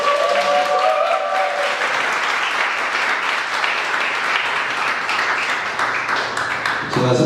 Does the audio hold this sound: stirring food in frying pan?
no